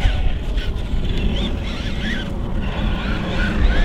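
A Team Associated Rival RC truck with a Tekin motor runs at full speed, its electric whine rising and falling over a rough, steady roar of tires on the ground, fairly close and loud, with no talking.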